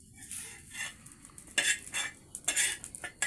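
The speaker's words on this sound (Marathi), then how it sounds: "खोबऱ्याला चांगला सोनेरी कलर आलाय, तर आता खोबरं काढून घेतो" A metal spoon scrapes and clinks against a pan while golden roasted coconut is scooped out, with a faint sizzle underneath and several sharp clatters, close and moderately loud.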